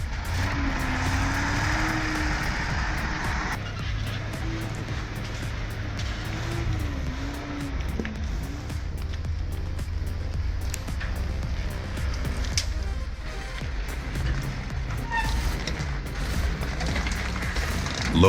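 A monster truck's engine rumbles steadily, a loud, continuous motor drone that rises and falls slightly with throttle, with no talk over it.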